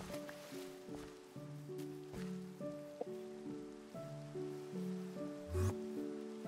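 Rain falls in the Minecraft video game as a soft, constant hiss, with gentle tonal game music notes ringing over it.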